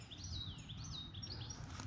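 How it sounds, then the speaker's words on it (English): Birds chirping and calling at a city duck park with geese and swans, high tweets fluttering over a low outdoor rumble, fairly faint. "With the beautiful birds and the geese and the swans."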